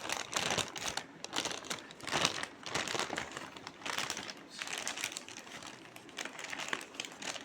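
A paper packing cover being folded inward by hand, giving repeated close crinkling and crumpling bursts in an irregular rhythm with brief pauses between folds, and no talk.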